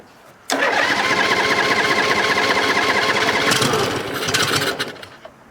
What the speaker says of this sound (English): Engine runs.